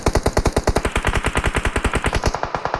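Rapid automatic gunfire from the video game PUBG Mobile rattles off in a long, evenly spaced string of loud, close shots that barely pause.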